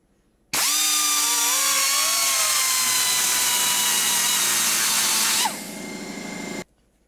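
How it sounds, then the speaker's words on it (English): A high-RPM die grinder cuts with a bit, a loud steady high-pitched whine that starts abruptly, holds for about five seconds, drops in pitch and load, then cuts off. "I'm going to try that same bit in this higher RPM grinder."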